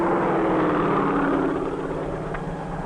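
A crop-dusting helicopter gives a steady, loud engine roar with a continuous rotor drone, sustained throughout and fading slightly toward the end.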